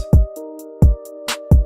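Electronic beat with heavy kick drums thumping in a steady pattern, snare hits between them, and a sustained synth chord underneath.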